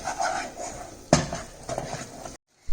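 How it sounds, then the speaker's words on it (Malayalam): Spoon scraping and clinking in a pan while sweet coconut filling for Kerala boli is stirred, a steady run of close scrapes with a sharper knock midway and a brief hush before a final clatter. "ഇത് ഏകദേശം 2 മിനിറ്റ് മുതൽ 3 മിനിറ്റ് വരെ ഇളക്കി കൊടുക്കാവുള്ളൂ"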